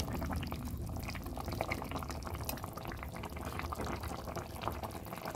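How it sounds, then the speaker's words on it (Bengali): Fish curry of katla fish with green banana bubbling steadily in a pot, a dense, continuous close simmering and boiling sound without speech. "কিছুক্ষণ ফুটতে দিলাম।"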